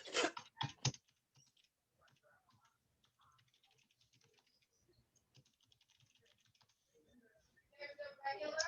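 Fingers tap out a property address on a computer keyboard, a quiet run of light clicks, with a few louder, denser bursts at the start and end.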